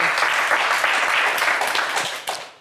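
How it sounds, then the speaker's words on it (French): A TV game show studio audience gives loud, sustained applause that fades slightly toward the end. "on vous applaudit très fort"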